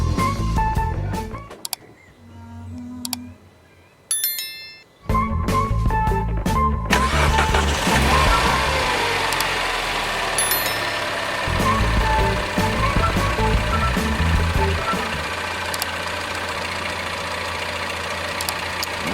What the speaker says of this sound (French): il faut une fois avoir mis le P18 et l'huile démarrer immédiatement la voiture